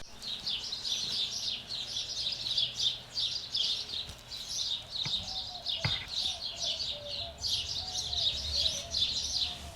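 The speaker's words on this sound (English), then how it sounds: "Can you hear all the birds?" Many small birds chirp and tweet in a busy, continuous chorus in a backyard, fairly soft and at some distance.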